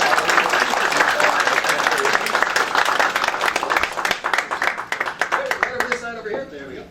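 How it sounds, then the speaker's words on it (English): A stand-up comedy audience applauds and cheers as a volunteer heads to the stage, a loud, dense burst of clapping that thins into scattered claps before fading out near the end. "Give her a big round of applause as she races to the stage."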